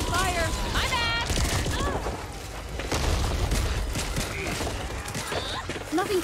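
Gunfire bursts in the video game Back 4 Blood, mixed with booms and in-game effects, while a player talks over the action throughout.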